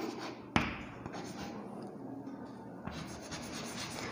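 Chalk or marker writing on a classroom board, a sharp tap as it touches the surface followed by soft continuous scratching strokes, close and moderately loud with no talking.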